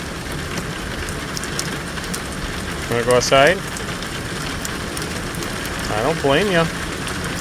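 Heavy torrential rain pours steadily onto a shanty boat on the Great Loop in Georgia, a dense constant hiss throughout, with a person speaking briefly over it twice.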